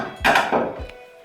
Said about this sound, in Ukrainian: Ставимо тарілки.